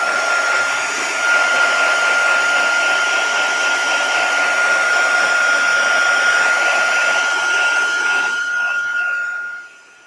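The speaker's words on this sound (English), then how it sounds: "I'm going to blast that with the heat gun again to make sure it is completely dry" A heat gun blows hot air to dry stencilled craft paper, a steady loud whooshing roar with a high whine running nearly ten seconds before cutting off at the end.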